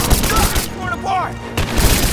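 Gunfire in the Rise of the Tomb Raider video game: a loud rattling burst of shots, a brief lull with a faint voice, then another close burst of firing.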